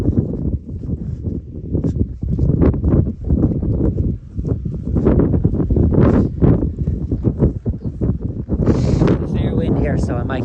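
Wind buffets a microphone outdoors beside a field of min-tilled winter wheat, gusting in loud, uneven rumbling bursts throughout while someone talks over it.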